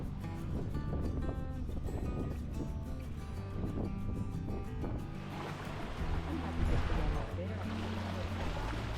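Boat ride across choppy open water to Bremer Island, with a steady engine drone and the rush and slap of waves against the hull throughout, growing rougher near the end.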